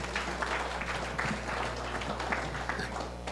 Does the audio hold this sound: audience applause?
yes